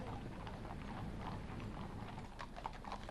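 Horses of the King's Troop clip-clopping slowly in a royal funeral procession, a steady rhythm of hooves on pavement, faint and distant over a low crowd hush.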